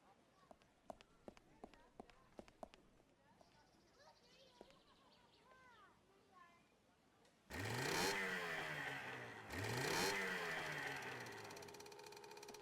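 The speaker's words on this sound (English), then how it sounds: "The engine works." Small motorboat engine in the adventure game Secret Files 2: Puritas Cordis, starting with a loud sputtering roar, cutting briefly, then catching again and running steadily after a stretch of clicks, birdsong and a voice.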